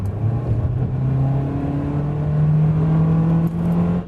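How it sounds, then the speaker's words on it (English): The small engine of a Mitsubishi Outlander Sport with a CVT drones at a constant high pitch, held steady and loud without gear shifts, slowly rising slightly in tone. "It holds the revs high, trying to get the most it can out of this small engine."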